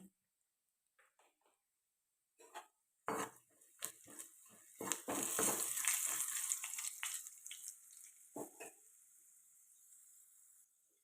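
Tempering spices hit hot oil in a kadai while gongura chutney is being made, setting off a burst of sizzling and crackling that builds, spits and fades. Utensil clatter comes and goes, and someone talks.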